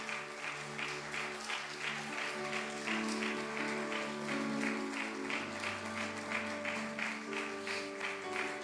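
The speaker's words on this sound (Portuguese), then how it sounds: "Aplauda bem forte." A church congregation applauds loudly and steadily at a service, the dense clapping sustained throughout with a sustained musical tone underneath.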